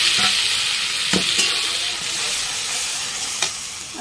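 Mustard seeds and dried chillies sizzling in hot oil: a steady, bright frying hiss with a few soft stirring clatters, close and continuous.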